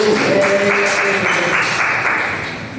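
A classroom of students applauding during a microteaching practice lesson, a short, loud burst of many hands clapping together that tails off slightly, with a voice faintly audible beneath it.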